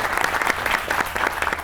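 Studio audience at a Pakistani comedy talk show applauds a doctor guest, a steady dense clapping that stays even and fairly loud from start to finish, with no one talking over it.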